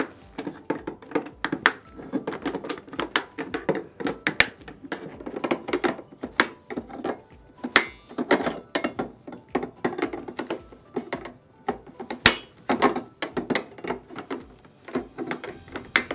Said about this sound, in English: Once you get all your clips tightened in with your flex face tensioning tool